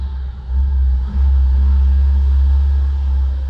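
A 1989 Chrysler Shadow engine turning over and struggling to start, a loud steady low rumble that briefly dips near the one-second mark before surging back and holding as it tries to catch.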